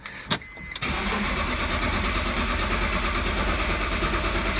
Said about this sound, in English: It's gonna crank for a while because there's air in the fuel lines.